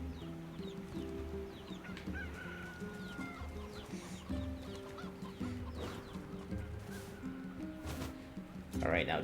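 Chickens clucking in the video game Nier, repeated soft clucks and calls over a low game soundscape, with a person talking throughout.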